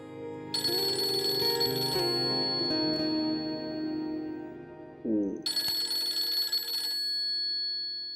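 A telephone rings in a home, with two bursts of bright repeating electronic ringing separated by a pause, loud and close over a low background hum and brief household sounds.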